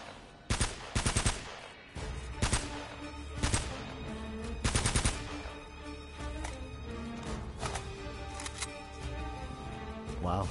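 Heavy gunfire in Uncharted: Drake's Fortune, with repeated bursts of automatic shots and single cracks spread across the span, some clustered in rapid volleys, over a continuous bed of game noise.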